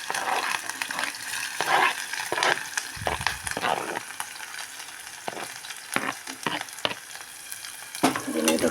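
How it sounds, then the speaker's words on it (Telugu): Onion and chilli sizzle in hot oil while being fried for ridge gourd dal, giving a steady close crackle broken by repeated clattering stirs of a spoon against the pan. "ఇప్పుడైతే ఆనియన్ కూడా వేస్తున్నా."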